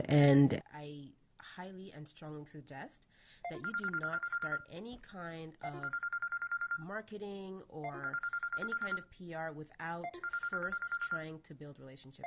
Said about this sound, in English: I apologize for the phone ringing.